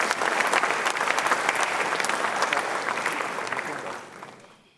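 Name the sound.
audience round of applause at a lecture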